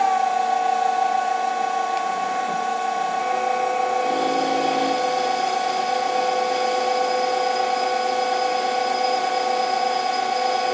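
A Denford ORAC CNC lathe cuts a hole with a boring tool, giving a steady, loud tonal whine and machine hum that runs without a break, with a brief change in the cutting tone partway through and no talking.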